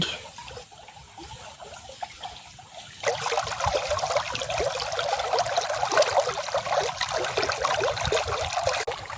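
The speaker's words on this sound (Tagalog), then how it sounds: "Ayan, pumasok na po ang tubig." Water pours and splashes steadily into a crab fishpond, starting suddenly after a quiet trickle and continuing as a loud, continuous rush.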